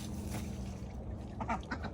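Ducks quack among farm birds in a brief, faint outdoor moment, several quick calls over a steady background hum with no talking.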